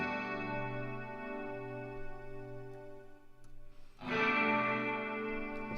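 A sustained electric guitar chord rings out with a distorted, reverberant tone through a Fractal amp preset based on a Marshall Plexi, fading slightly before a second chord is struck and swells loudly.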